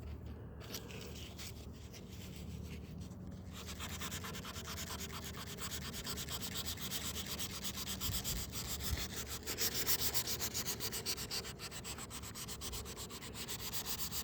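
Continuous rubbing and scraping as fender flares and an airdam on an old custom van are sanded by hand, a steady rhythmic strokes close up that grow a bit louder toward the end.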